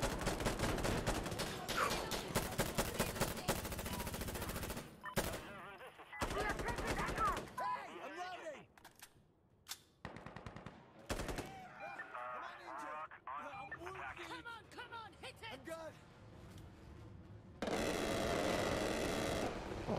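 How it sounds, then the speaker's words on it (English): Rapid automatic gunfire from an air strike gun run in the video game Insurgency Sandstorm, loud bursts opening the clip and returning at the end, with players talking over the shooting in between. "Call for a gun run. Have him attack this"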